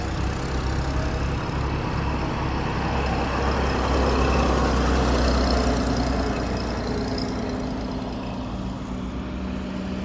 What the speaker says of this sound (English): I just come into the park and these little cars are coming out